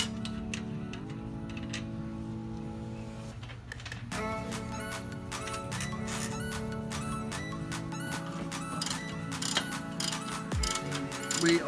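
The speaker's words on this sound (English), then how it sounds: "We are now taking off the sway bar links." Sway bar links come off a CJ-7 Jeep during a 4-inch lift install, with a power tool whirring and rattling in close repeated bursts, metallic clicks and ratcheting between them.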